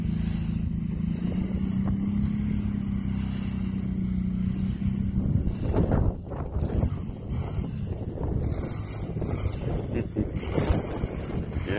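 Kawasaki Brute Force and Honda Rincon ATVs doing wheelies outdoors, an engine droning steadily then revving and roaring harder midway, with strong wind buffeting the microphone and no talking.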